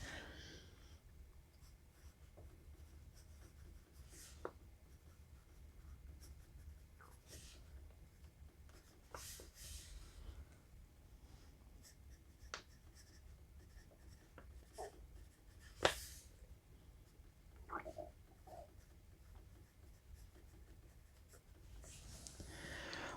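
Soft graphite scratching from a very soft Kita-Boshi 10B Japanese beginner pencil, with quiet intermittent strokes and a few sharper taps and scrapes against steady low background hiss, close and faint.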